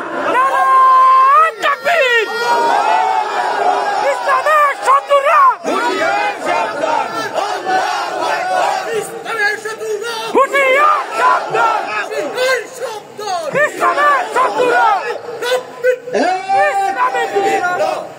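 Large crowd at an Islamic tafsir gathering at a mosque in Tejgaon, Dhaka, loudly chanting a slogan in unison, with rhythmic rising shouts repeating across the whole stretch.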